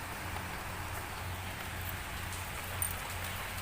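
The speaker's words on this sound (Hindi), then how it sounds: "देखो आमर एठी प्रबल वर्षा होची" Heavy rain pours down steadily, a dense, even hiss of falling water that stays constant throughout, close and moderately loud.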